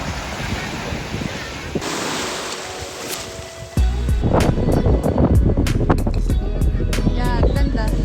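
Rough sea waves break near a windy beach at Pico de Loro, Batangas, with loud gusts buffeting the microphone, then heavier surf crashing in repeated close bursts.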